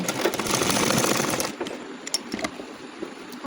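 A sewing machine runs a quick rattling burst of stitches along a pajama waistband for about a second and a half, then stops, leaving soft handling clicks and fabric shuffles.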